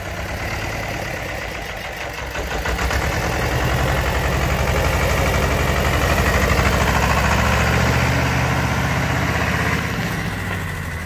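A 40-horsepower Antonio Carraro 4x4 tractor engine idles steadily and close by, a continuous low rumble with mild vibration that swells slightly in the middle, with no voices over it.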